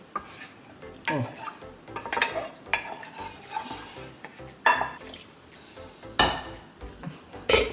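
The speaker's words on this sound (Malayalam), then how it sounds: "ഇച്ചിരി വെള്ളം ഇട്ട് ചുമ്മാ മസാല എല്ലാം കളയാതെ മിക്സ് ചെയ്തെടുക്കുക" Mutton curry masala stirred in a pot with a little water, repeated scraping and knocking of a spoon against the metal over a soft sizzle, close and uneven in rhythm, no talking.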